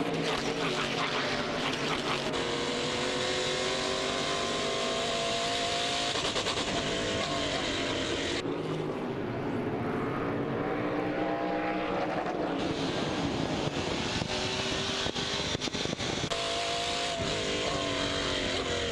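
ASA SK race cars racing at USA International Speedway in Lakeland, a loud continuous roar of multiple engines at full throttle, with pitch sweeps as cars pass and a brief dip mid-way.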